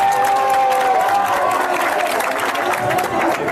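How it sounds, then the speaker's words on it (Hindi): Crowd applause at a street rally during a padyatra walk in Anushakti Nagar, steady dense clapping with some cheering mixed in, loud and close throughout. "जोरदार तालियों से स्वागत कीजिए मेरी बहन का।"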